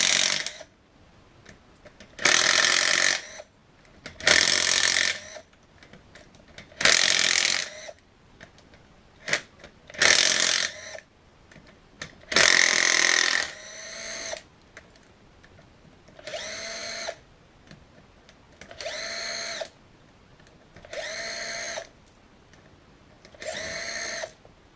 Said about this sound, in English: taking off those 6 14mm bolts. I'm using an impact here just to speed up the process